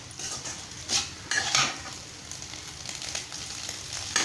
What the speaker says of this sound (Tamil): முட்டை இப்போ வணக்கிட்டுருக்கோம் இல்லையா